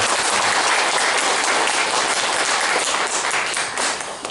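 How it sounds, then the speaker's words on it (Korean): Dense, loud applause from a crowd at a church worship service, sustained throughout and easing off slightly near the end. "큰 박수 한번 올려주시기 바랍니다"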